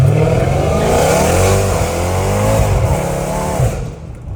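A Dodge Hellcat Redeye roars as it accelerates hard from a standstill, its loud, close engine climbing through revs with rising whine, then easing off near the end.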